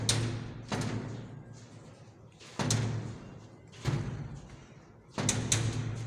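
A door being pushed and rattled without opening, giving four separate heavy thumps with a rattling clatter, each followed by a short decay and roughly a second of quiet between blows.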